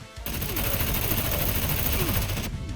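Sustained automatic gunfire in the survival game SCUM, a dense unbroken rattle of rapid shots lasting a couple of seconds and then cutting off abruptly, loud and close, with no voices over it.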